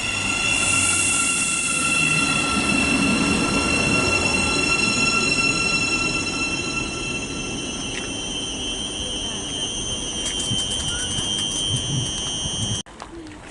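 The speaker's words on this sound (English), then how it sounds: "We're arriving now, 700-043, terminating in from Sutton." Thameslink Class 700 unit 700-043 pulls into St Albans City station, its wheels squealing with steady high whines and rolling rumble, then it slows and goes quiet near the end; a brief voice is also heard.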